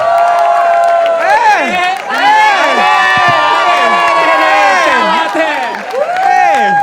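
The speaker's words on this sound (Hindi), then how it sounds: "मिथिलेश, जोरदार तालियां बजाएं" At a talent show, the crowd roars for the night's final act, loud whoops, shouts and cheering layered over clapping, with voices rising and falling in excited bursts throughout.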